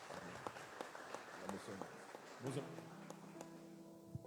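A church congregation claps during a Portuguese-language service, scattered and fairly quiet, with voices and other room sounds mixed in and a sustained tone toward the end.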